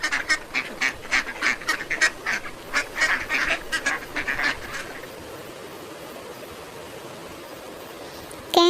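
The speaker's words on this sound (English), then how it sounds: "Duck, Duck means Battak" Duck quacking in a rapid string of loud, raspy calls for about five seconds, then falling silent, with a brief unrelated noise at the very end.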